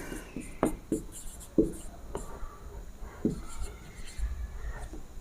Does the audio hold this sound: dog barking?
no